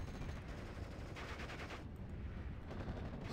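Sustained rapid gunfire from a Steel Division: Normandy 1944 battle, a dense unbroken rattle of machine guns with distant shots blended into a constant roar and no voices.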